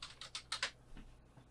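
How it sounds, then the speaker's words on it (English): Several quick keystrokes on a computer keyboard while someone types a name into a search, a short close burst of clicks that then trails off into quiet room noise. "I'm just typing Willy Wonka."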